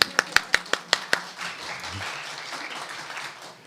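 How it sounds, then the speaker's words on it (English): Brief burst of audience applause, a handful of sharp separate claps at first that fade into a low, steady room murmur. "That deserved an applause."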